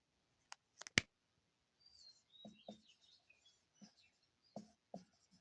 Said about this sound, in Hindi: लिखेंगे हेडिंग रेखीय आवर्धन